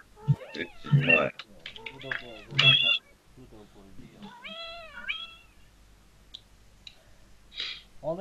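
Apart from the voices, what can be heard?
cat meowing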